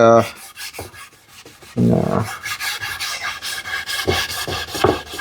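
Steel wool rubs across wood during hand tool furniture work, producing repeated close scratchy strokes in uneven rhythm, with a short voice-like tone near the start.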